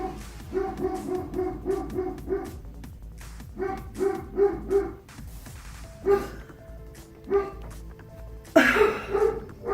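Dogs bark in quick repeated bursts, some nearby and clear, others fainter, with short pauses between volleys and a sharp louder bark at the end.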